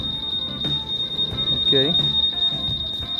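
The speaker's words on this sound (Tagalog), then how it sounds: "May anti-theft system po kasi ito. So pag ginalaw mo yung ganyan, ayan, nag-a-alarm po yan." Honda Click 150i scooter's anti-theft alarm emitting a steady high-pitched electronic tone throughout, with handling noises and a person talking briefly over it.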